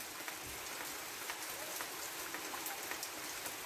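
Steady rain falls in a Ukrainian village, a soft continuous hiss of drops on surfaces with scattered light patters, fairly faint and alone.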